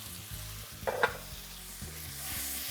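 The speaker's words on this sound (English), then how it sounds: "So to this, I'm adding some diced cooked potatoes." Diced cooked potatoes frying with onions in a pan give a steady low sizzle, with a brief louder burst of stirring or scraping near the middle.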